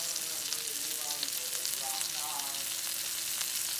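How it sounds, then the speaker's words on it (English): Onions and country fried potatoes sizzle steadily in a pan, a constant close hiss of frying that runs unbroken with no talking. "saute some onions. There's some country fried potatoes."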